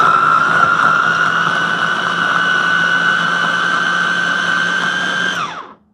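A kitchen appliance motor runs at its lowest speed setting, a loud steady whine with a constant hum that holds evenly, then winds down and stops near the end.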